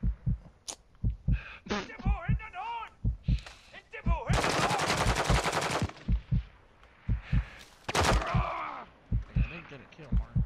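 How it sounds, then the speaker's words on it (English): Video game gunfire in loud, close rapid bursts of automatic fire, interleaved with a steady thumping heartbeat-like effect and brief voice callouts. "Taking effective fire!"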